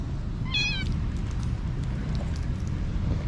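A single short meow from a cat, heard once over steady outdoor background noise in Tehran, Iran.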